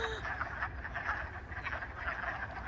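Toads croaking loudly in mating season, a dense continuous chorus of overlapping rasping calls close by, with no clear speech over it.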